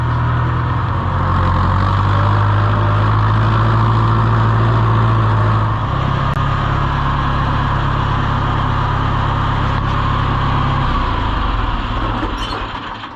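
A heavy tractor engine idles loudly and steadily close by, its low rumble shifting pitch partway through before winding down at the end.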